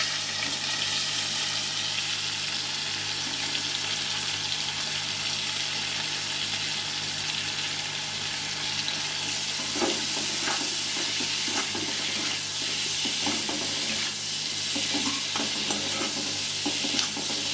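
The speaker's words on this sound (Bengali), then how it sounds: "এবারে তেলে পেঁয়াজ কুচি দিয়ে দিচ্ছি" Chopped onions sizzling in oil with a spoonful of butter in a pan, a steady, even frying hiss throughout, joined partway by scraping and stirring strokes of a spatula, with no voices.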